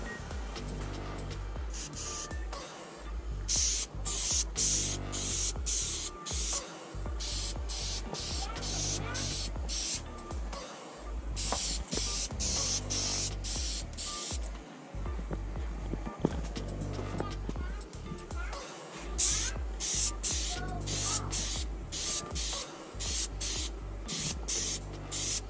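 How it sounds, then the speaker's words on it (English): Repeated bursts of clear coat spray hiss onto a painted fishing lure, close and fairly loud, coming in several pulses separated by brief pauses. "Now we're ready to start clear coating."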